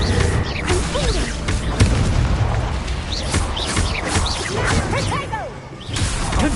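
Confringo fire spells blasting in a Hogwarts Legacy duel: a dense, continuous barrage of booms, whooshes and crackling bursts with rising magical chirps, loud and busy throughout with no clear gaps.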